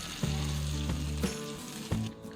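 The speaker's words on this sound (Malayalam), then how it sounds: "ഇനി ഈ മൂപ്പിച്ച ഉള്ളി കറിയിലേക്ക് ഒഴിക്കാം." Fried onion and curry leaf tempering is poured into cashew nut masala curry, a short burst of sizzling with a few sharp spoon or pan clinks and a low hum underneath.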